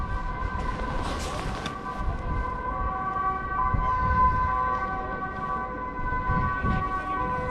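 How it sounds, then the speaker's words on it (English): Several emergency vehicle sirens wail at once from a distance in Amsterdam, their steady tones overlapping above low traffic rumble. "so many sirens."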